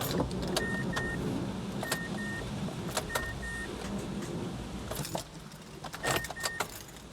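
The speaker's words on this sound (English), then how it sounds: "definitely it doesn't start my Mazda" A Mazda 5 is cranked with an AUTOONE JS02 6000A portable jump starter connected and fails to start: close, sharp mechanical clicks and short repeated two-tone chimes sound over a steady low rumble, and the engine never catches.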